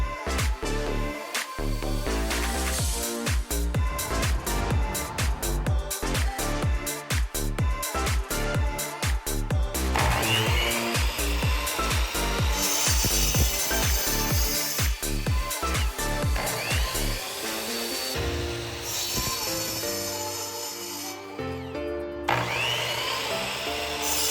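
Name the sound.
power saw cutting 2x4 lumber for cornhole board legs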